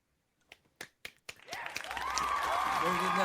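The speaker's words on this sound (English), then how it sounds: "the studio audience is now ready to applaud" After a few scattered single claps, a studio audience breaks into applause that swells into a steady, full round of clapping and holds to the end.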